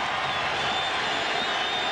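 Large college football stadium crowd at Auburn versus Florida in 2001, a broad steady roar of cheering that holds constant and loud throughout.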